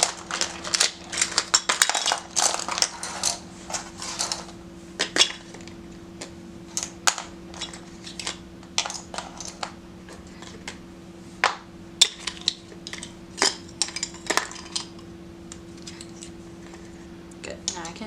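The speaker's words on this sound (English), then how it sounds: "I'm kind of afraid to dump this out because I know that there's pencil shavings in here." Eyeliner pencils, mascara tubes and other makeup tipped out of a container, with pencil shavings inside, making a long run of close, clattering plastic clicks and taps over a steady low hum.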